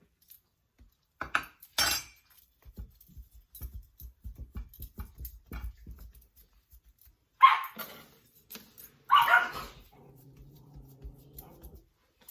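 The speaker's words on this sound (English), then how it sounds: "That's my bad dog." A dog in a home kitchen gives a few sharp barks and whimpers amid light clinks and scattered quiet household noises, with pauses between the outbursts.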